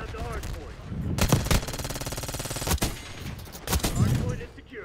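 Kompakt 92 submachine gun fire in Black Ops 6, rapid automatic bursts ringing loud and close, with dense sustained strings of shots broken by short pauses and sharp single cracks.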